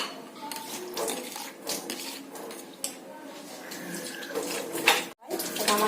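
Water mixed with Ganges water poured into a small pot at a home puja, a steady splashing pour with faint clinks of metal, close and clear, ending with a brief break.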